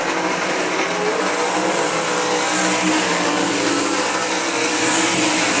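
Sprint cars racing around I-96 Speedway in a dense, continuous engine roar with a steady high-revving drone and no break, heard from trackside.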